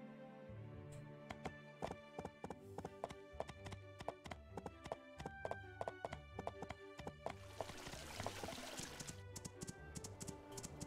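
Hooves of a horse in the farming life-sim game My Time at Portia clip-clop in a steady, brisk rhythm, close and clear over light game music, with no talking.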